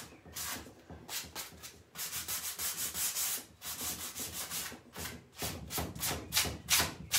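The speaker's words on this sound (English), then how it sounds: "Going over with the sandpaper afterwards, I'm finding also it's just kind of brightening up" Sandpaper rubbed by hand over painted furniture in a layered paint finish, heard as brisk repeated back-and-forth scratching strokes in fast bursts, close and steady with short pauses.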